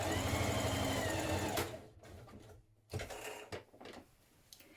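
A sewing machine runs loud and fast stitching the bodice seams of a McCall's 7381 spring/summer dress, then stops, followed by short bursts of stitching and handling noise.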